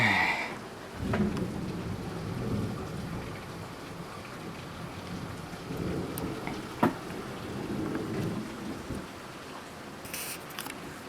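A severe summer thunderstorm pours heavy rain in a steady hiss, with low rumbles of thunder rolling underneath and a sharp crack midway, no voices.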